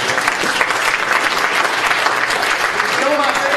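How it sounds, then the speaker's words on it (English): A training-session audience of Ambit consultants bursts into loud, sustained applause, dense clapping from a large crowd that fills the room continuously with faint voices mixed in. "Give yourselves a round of applause"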